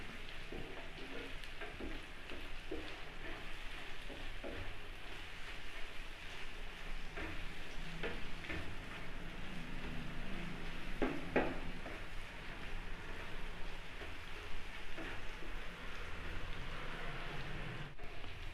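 Egg and tomato cook in a pan, giving a steady, soft sizzle and crackle that runs continuously without pause, low and even throughout with no voices over it.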